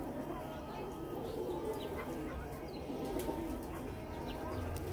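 Kamangar pigeons coo softly on a Lahore rooftop loft, low murmuring calls over a steady background hum with faint chirps and brief wing flutters.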